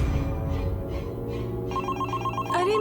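A telephone rings with a repeated electronic trill, fairly faint, over a steady background hum; no one speaks.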